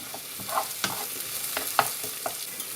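Onions fry and brown in pork juices in a pan, giving a soft, steady sizzle with a few sharper scrapes and clicks from stirring, and no voices.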